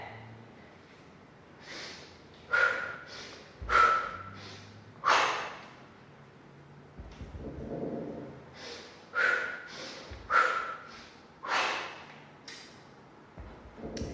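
Forceful breaths during kettlebell clean and jerk practice: sharp, loud snorting exhales and quick inhales repeat in a steady rhythm, close to the mic, with no talk over them.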